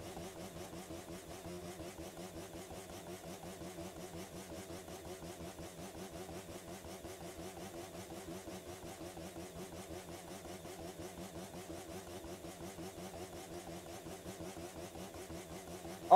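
A motorcycle engine in the video game The Crew 2 held at the rev limiter, a steady buzzing drone with rapid cut-out stutter running continuously throughout, fairly quiet and with no talk.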